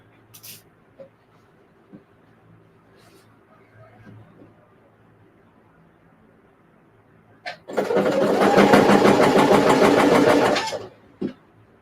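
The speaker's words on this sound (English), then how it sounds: "I'm just gonna always double check, make sure I don't have a layer of fabric stuck underneath. And I just sew." A sewing machine stitches fabric in a steady, fast, even whir that runs for about three seconds and then stops, with a few soft clicks and handling sounds around it in a quiet room.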